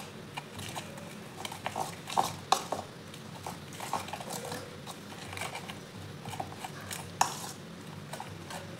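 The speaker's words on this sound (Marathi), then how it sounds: "पीठ चांगलं व्यवस्थित मिक्स करून घ्यायचं आहे आपल्याला।" Potato bhaji batter of flour is stirred in a bowl, giving a steady scraping and clinking of spoon against the bowl with a few louder knocks, close and continuous.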